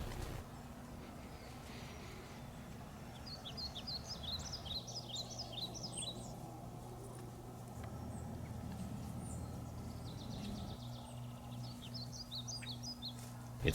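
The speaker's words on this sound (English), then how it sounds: "The crisp new day doesn't deter the birds from flocking to the trees and around camp." Birds chirp and sing in trees around a campsite at Shenandoah River State Park at sunrise, bright twittering bursts coming and going over a steady low outdoor hum.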